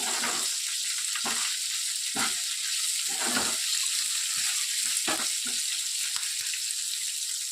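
Green chillies sizzle and crackle in hot oil for methi chutney, a steady close frying hiss broken by repeated stirring scrapes and pops spaced through the stretch, with no talking.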